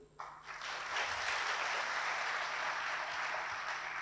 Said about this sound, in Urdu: تالیاں ہو جائیں